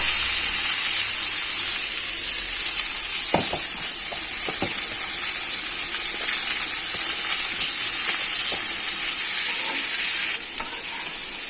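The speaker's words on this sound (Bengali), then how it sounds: "আমি একটু পেঁয়াজগুলোকে এবারে লাল লাল করে একটু ভাজবো" Onions frying in oil in a pan for mutton curry make a loud, continuous sizzle close up, with a few soft stirring scrapes and no talk.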